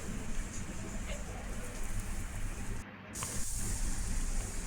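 Chopped okra roasting in a ladle of oil gives a steady, close hiss of sizzling that runs throughout, with a short dip partway before the frying noise swells again.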